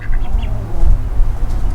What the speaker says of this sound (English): Here's our mallards.